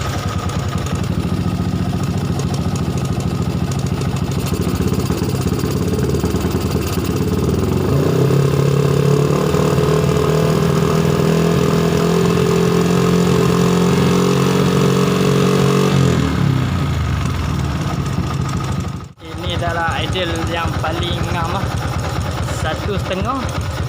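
A motorcycle engine idles steadily at close range while the carburetor air screw is adjusted, its tone rising and steadying partway through before a brief dropout, with someone talking over it.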